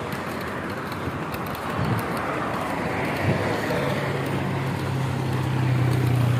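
Steady road traffic rumbles through Islamabad's red zone, with a continuous broadband wash of passing cars and a low engine hum that grows stronger toward the end.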